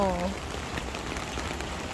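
Steady rain hisses evenly throughout, close and fairly loud, with a brief voice at the very start.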